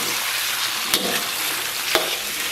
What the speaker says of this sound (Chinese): 然后咱们把肥肠给它下里边，简单给它煸炒一下